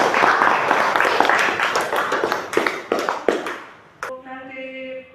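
A classroom of students claps for a classmate, a burst of scattered hand claps that fades out over a few seconds before a short tonal sound at the end.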